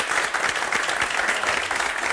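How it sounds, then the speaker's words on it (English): A studio audience of teens applauds to vote for a favourite act, with loud, dense, continuous clapping filling the whole short burst. "Let's hear it by applause."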